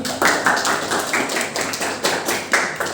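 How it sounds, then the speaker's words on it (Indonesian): An audience in an indoor classroom-style session gives a short burst of applause, with quick, irregular claps throughout. "Boleh beri aplaus dari Ibu Sarini."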